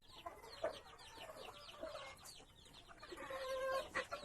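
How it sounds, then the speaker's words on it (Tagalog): A mother hen clucks repeatedly in a busy farmyard, with several birds chattering and calling close by amid low background noise. "Yan yung inahin. Kailangan magbantay sa inahin."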